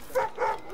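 Two short yelping barks from dogs in Assassin's Creed Rogue, quick and close, alone without any talk.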